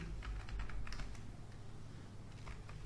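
Steady typing on a computer keyboard, close and fairly loud, with quick irregular bursts of key clicks running throughout and no voice over them.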